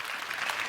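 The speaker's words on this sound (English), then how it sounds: "Please give Hanno a big warm round of applause" Audience applause for a speaker at a conference talk, a brief dense patter of clapping at moderate distance.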